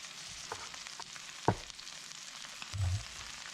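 Vegetables fry in oil over high heat, giving a faint, steady sizzle broken by a sharp clink near the middle and a short low scraping stir toward the end.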